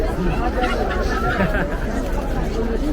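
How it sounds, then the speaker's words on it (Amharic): Busy crowd at Shola market in Addis Ababa before the Easter holiday, a dense continuous babble of many overlapping voices nearby with no single speaker standing out. "ሾላ ገበያው ግርግር ይሄን ይመስላል"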